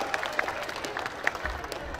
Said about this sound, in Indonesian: Beri tepuk tangan dulu untuk para hadirin semua.